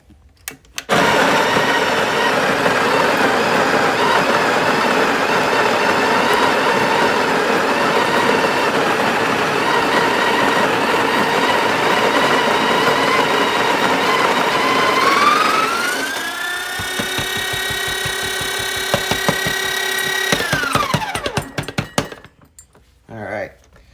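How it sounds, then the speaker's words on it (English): A Breville espresso machine's built-in grinder grinds coffee beans on setting 8, a loud, steady buzzing whir close by that rises in pitch as the beans run out, then winds down and stops. "We're just gonna go ahead and grind the beans."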